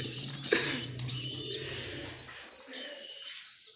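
Pigeons coo and call close by, with bird chirps and soft rustling over the first few seconds, then fading quieter toward the end.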